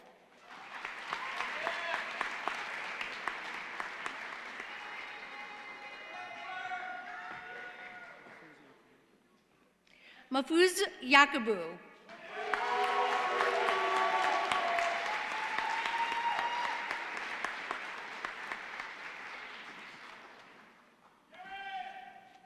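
Sustained applause with cheers fills a Muskingum University commencement hall, broken by a brief announcer's voice reading a name, then a second long wave of clapping and shouts that fades out.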